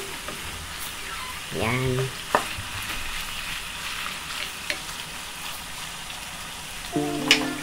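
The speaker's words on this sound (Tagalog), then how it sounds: "Magpantay yung pagkakagisa niya tsaka yung paglabas ng kanyang katas." Chicken for sweet adobo sautés in a pan with a soft, steady sizzle, broken by occasional clinks and stirring scrapes, while a voice speaks briefly now and then.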